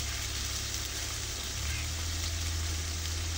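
Cumin paste sizzles as it hits a pot of beef curry, a steady, moderately quiet frying hiss that stays even throughout with a low hum underneath.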